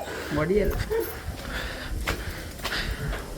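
A dog gives a few short whimpering yips and a brief bark near the start, close by, followed by a lull of background noise and scattered faint knocks while people talk quietly.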